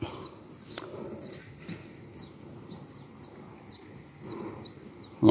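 Fighting birds in a bird-fight match give short, high chirping calls again and again, fairly near, over a steady low background murmur, with a brief sharp burst near the start and another at the very end.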